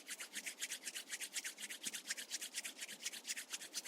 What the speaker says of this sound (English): Start rubbing your palms together.